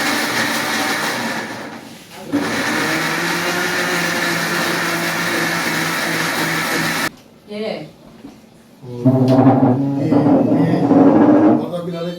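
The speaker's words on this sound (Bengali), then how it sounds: "এগুলো এখন ব্লেন্ড করে নেব।" A kitchen blender whirs loudly and steadily as it blends ingredients for bharta, with a brief pause and a couple of short bursts before the motor runs hard again.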